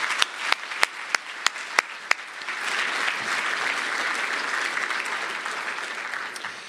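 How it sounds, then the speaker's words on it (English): A luncheon audience applauding sponsors: a few sharp individual claps first, then building into steady, dense applause from a room of people, moderately loud and continuous to the end. "I'd like to give them another round of applause for this great support."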